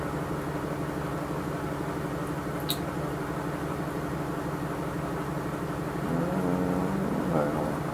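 An electric motor in a homemade free-energy project test rig runs at a steady hum with a continuous drone, nearby and fairly loud, its tone shifting slightly near the end as the motor speeds up a little.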